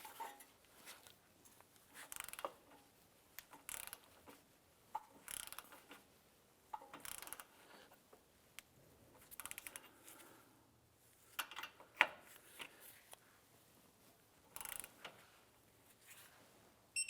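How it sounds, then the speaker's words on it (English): Ratcheting clicks from a torque wrench tightening the outer tie rod nut to 47 foot-pounds on a Honda Civic, coming in short close bursts with pauses between pulls and a sharp click around the middle. "I'm gonna now go ahead and torque down the outer tie rod nut to"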